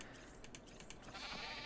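Sheep bleat in the video game ARK: Survival Evolved, Ragnarok map, a faint, wavering cry under steady background game noise with a few light clicks, heard without any talking.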